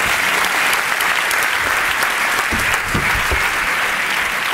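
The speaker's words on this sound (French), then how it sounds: "tu te lèves, on l'applaudit, merci" A theatre audience at a comedy show applauds loudly and continuously, dense clapping filling the whole stretch with no speech over it.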